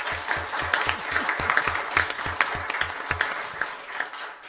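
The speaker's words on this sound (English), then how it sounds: "Let's give him a round of applause." Audience at a school district governing board meeting applauds the principal of Black Mountain, a few seconds of brisk, fairly close clapping from a modest crowd, with distinct individual claps audible.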